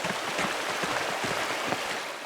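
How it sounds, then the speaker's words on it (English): A waterfall in the video game Pentiment, a steady broadband rush of falling water, even and continuous at moderate loudness with no other sounds. "down here at the waterfall"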